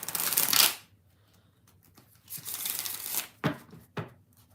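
Tarot cards shuffled by hand in a riffling burst, then a pause before a longer run of shuffling and two sharp final riffles, close and fairly loud with no talk.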